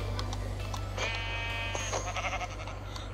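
A sheep bleats in Minecraft, a few short wavering calls over a steady low hum, moderately loud and without talk.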